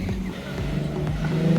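Nissan 370Z engine revving as it passes at an outdoor car gathering, a loud throaty growl with rising and falling pitch, close by.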